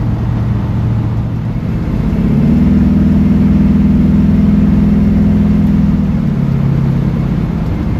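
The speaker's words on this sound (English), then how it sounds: "Nice dual exhaust. Sounds really good." A 1970 Chevrolet C10 pickup truck engine rumbles steadily up close, its low dual-exhaust note rising as it revs and then settling back down.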